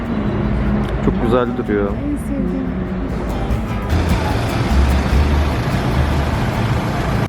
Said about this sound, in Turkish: Bu arada gerçekten trafik var, ona ben de şaşırdım.